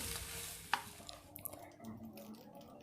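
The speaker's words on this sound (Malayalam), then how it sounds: "ഇനിയിപ്പം മാക്രോണി നന്നായിട്ടൊന്ന് മിക്സ് ചെയ്യണം" Cooked macaroni being stirred in a pan, with a sharp clack of the spoon against the metal near the start and a few soft scrapes and light sizzling afterward, close and fairly quiet.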